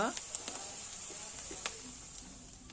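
Finely chopped onion sizzles softly in a pan, a faint, even frying hiss with a few sharp ticks while someone talks over it.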